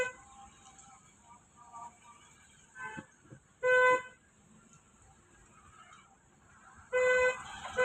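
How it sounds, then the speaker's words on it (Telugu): Car horn on a learner's vehicle during a driving lesson, two short loud honks separated by a few seconds over quiet engine hum and faint murmuring voices. "హార్న్ ప్రెస్ చేయి."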